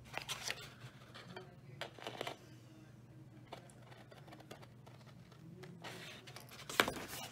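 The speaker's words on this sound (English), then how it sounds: "Just cut it right on the score lines." Scissors snip through card along score lines in several short, separate cuts, close and fairly quiet over a low hum, with a sharper rustle near the end.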